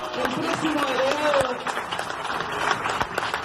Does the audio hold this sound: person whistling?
no